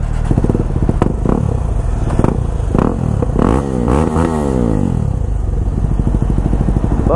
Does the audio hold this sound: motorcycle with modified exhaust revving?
yes